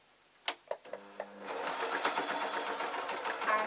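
A sewing machine stitches fabric for a waistcoat pocket, starting with a few clicks before settling into a fast, steady whirring run close by.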